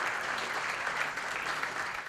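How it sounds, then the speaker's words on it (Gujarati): A dense, steady wave of audience applause fills the whole stretch at a Gujarati comedy show in Mumbai, cheering the performers with continuous, evenly loud clapping and no pauses. "તાળીઓથી વધાવો."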